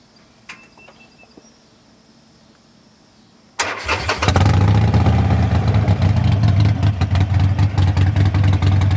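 Quiet background, then a 2016 Harley-Davidson motorcycle engine cranks and fires up, settling into a loud, throbbing idle close by.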